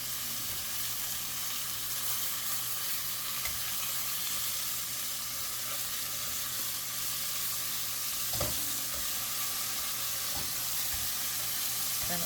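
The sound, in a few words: beef searing in a pan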